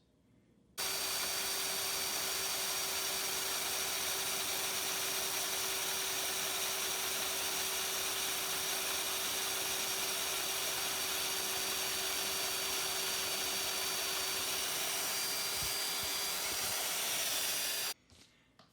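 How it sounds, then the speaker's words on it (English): A steady, continuous power drill whine runs for about seventeen seconds, loud and close, drilling through a Wagoneer's steel frame, with a constant tone over grinding noise, then stops abruptly. "it drilled through very nice"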